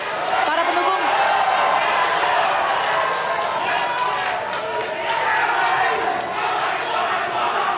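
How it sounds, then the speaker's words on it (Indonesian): Supporters in the audience at the fifth 2019 Indonesian presidential debate cheer and shout in a loud, continuous crowd roar with scattered clapping, filling the whole stretch without pause. "kita beri tepuk tangan yang meriah para pendukung."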